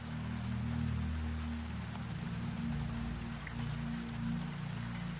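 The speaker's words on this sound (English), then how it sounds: "the rain begins to sound less like weather, and more like a lullaby meant only for you" Steady rain falls in a soft, continuous patter, an even wash of drops with a low hum beneath and no voices.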